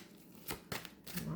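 Tarot cards are shuffled and drawn in a brief, close, soft papery riffle with a couple of quick slaps, while someone speaks French over it.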